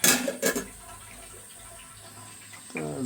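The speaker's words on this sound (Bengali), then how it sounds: "ডাল ধোয়া হইতেছে" Lentils are rinsed under a running tap in a sink, with splashy bursts of water at the start and again near the end around a quieter trickle.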